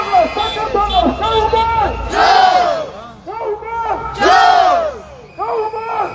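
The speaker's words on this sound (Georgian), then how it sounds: "საპროტესტო მარშის მონაწილეები სკანდირებენ გაუმარჯოს საქართველოს თავისუფლება რეჟიმის ტყვეებს" A protest march through the streets of Batumi at night: a loud crowd chants slogans in rhythmic, repeated shouted phrases, with swells of massed voices and brief pauses between chants.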